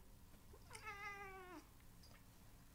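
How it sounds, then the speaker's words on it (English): A pet cat gives a single drawn-out meow lasting nearly a second. It is close and clear, with a faint rising chirp just after it and quiet room tone around it. "if I can make my cat meow right now"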